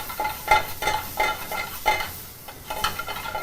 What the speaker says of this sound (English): basically we're just sauteing the veggies for now, getting all the flavor on the bottom of it